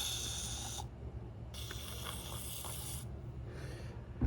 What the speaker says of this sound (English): Give that gas tube a nice spray out.